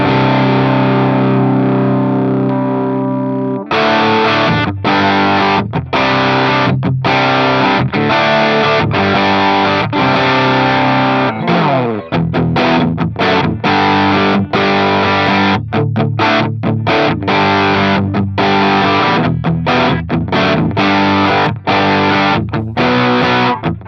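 A heavily distorted electric guitar plays crunchy chords through a Marshall DRP-1 pedal with gain at maximum, giving a broken-up plexi-style overdrive, loud and sustained with short pauses between strums.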